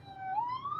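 A police car siren passes outside, a single rising wail heard briefly at moderate distance behind a quiet room.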